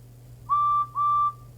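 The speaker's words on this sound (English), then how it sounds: "Whistled Edward" A railway engine whistle gives two clear, steady toots in a row, each under half a second, over a low constant rumble, with no voices.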